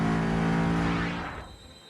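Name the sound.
GT3 race car at Kyalami Grand Prix circuit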